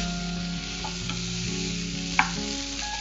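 Masala idli pieces sizzle in a hot pan while being stirred, a steady frying hiss with a low hum beneath it and one clear scrape of the spoon against the pan, all close up and without speech.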